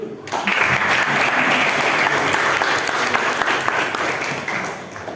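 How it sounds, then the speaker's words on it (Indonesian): A class of students applauds during an Islamic religious studies lesson on caring for the dead, dense steady clapping rising quickly and holding loud for about five seconds before tapering slightly. "Oke, tepuk tangan dulu."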